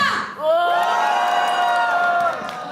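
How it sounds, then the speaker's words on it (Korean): An audience at a university talk concert gives a loud, sustained group shout and cheer for about two seconds, voices blending into one held roar before it tapers off. "전방을 향하여 3초간 함성 발사!"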